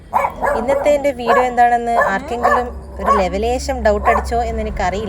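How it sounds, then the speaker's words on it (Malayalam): A pet dog named Rimmu barks and yips in short bursts close by, sounding over and between a person talking. "എന്തായാലും എൻ്റെ പട്ടി റിമ്മു കുരക്കുന്നത് കാണുമ്പോൾ ഒരു ഡൗട്ട് അടിച്ചിട്ടുണ്ടാവും"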